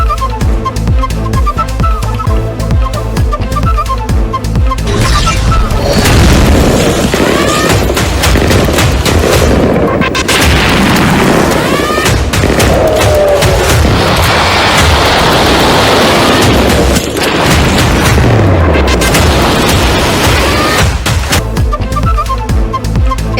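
Loud, continuous bursts and booms from Iranian missile strikes on Israel fill the scene, dense rumbling blasts and crackling impacts running almost without pause throughout.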